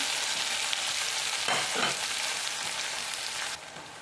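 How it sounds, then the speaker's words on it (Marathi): Chopped onion and tomato frying in a pan for a vegetable gravy, giving a steady close sizzle with a few scraping stirs in the middle and no talk over it. "कांदा कांदा छान असा परतून घ्यायचा आहे लाल झाल्यानंतर टोमॅटो टाकायचे"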